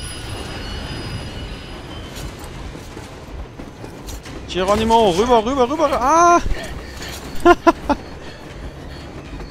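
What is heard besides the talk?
train running on rails in Metro Exodus video game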